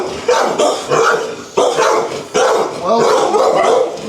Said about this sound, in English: This looks like a missing happy dog.